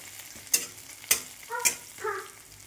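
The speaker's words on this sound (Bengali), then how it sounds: "পেঁয়াজটা রসুনটা ভাজা হয়ে গেলে, একটু লাল লাল হয়ে গেলে" Onion and crushed garlic frying in a pan, a low sizzle punctuated by several sharp stirring clinks and scrapes at irregular intervals, close by.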